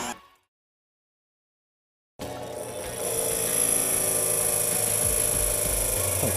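After a brief noise and two seconds of silence, a power drill starts up and bores a hole in wood for a wood and epoxy resin clock, a loud steady whine with a high tone that holds to the end.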